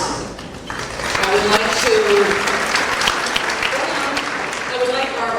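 Audience applause at the 1999 National Book Awards ceremony, a steady sustained clapping from a large crowd filling the hall.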